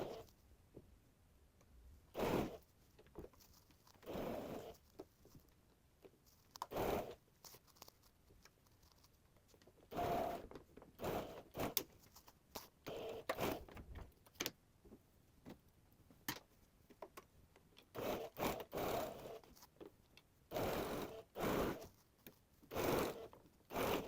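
Sewing machine stitching a shirt cuff, bursts of rapid needle clatter running a second or two at a time, separated by short pauses as the fabric is repositioned, close and clear with no talking.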